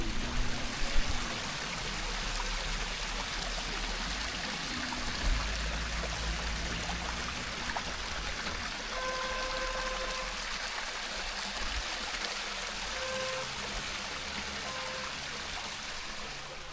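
A stream of water flowing steadily outdoors on a hillside in St Thomas, Jamaica, a constant broadband rush and trickle that fills the whole stretch with little variation.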